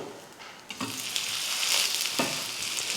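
Wheat rava adai dosa frying in oil on a pan, a close, continuous hiss and crackle of sizzling batter with a few soft scraping touches of a spatula.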